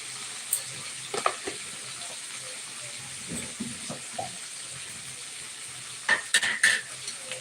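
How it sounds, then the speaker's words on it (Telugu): Red chilli powder frying in a pan, a soft low sizzle broken by occasional spoon scrapes and clinks, with a louder burst of stirring near the end, close and quiet. "రెడ్ చిల్లీ పౌడర్ వేసుకుంటున్నాను."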